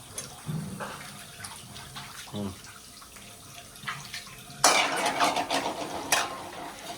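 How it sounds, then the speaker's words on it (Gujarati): Dishes being scrubbed and rinsed in a household kitchen, with water running and splashing against utensils, louder after a pause midway, and mixed with faint background voices. "આરતી બાપુના વાસણ ઘસે છે"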